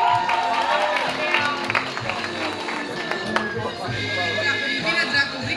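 An audience at a Romanian high school's movie-star-themed ball applauds in a steady, dense wash of clapping, with voices and crowd noise mixed in throughout.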